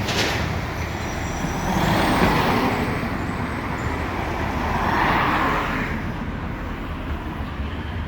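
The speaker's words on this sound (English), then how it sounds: "Always a big truck when you want to zoom in." A big truck passes along a street in Nottingham as a loud, rumbling swell that rises and falls twice while other traffic hums steadily nearby.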